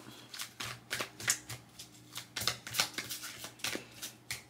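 Tarot cards are shuffled by hand for a card reading, giving quick, close riffling and slapping bursts in an uneven rhythm.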